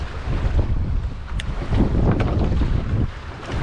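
Strong wind buffets a fishing boat at sea off Hill Head on the Southampton coast, with gusty roaring across the microphone and waves washing around the hull, loud and continuous without speech.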